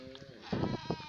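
Sheep bleating on a small farm in El Salvador, a few short close calls in quick succession, with people talking nearby in the same outdoor setting.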